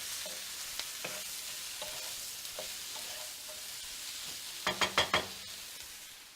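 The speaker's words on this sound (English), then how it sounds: "Give it a stir." Food stirred in a sizzling frying pan for spicy black bean burrito bowls, a steady close hiss and crackle with soft scraping strokes, then a quick run of three or four louder clacks of the utensil against the pan near the end.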